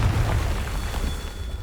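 A Confringo fire spell explodes in Hogwarts Legacy, a single deep, rumbling boom that fills the moment loudly and then holds as a heavy low roar.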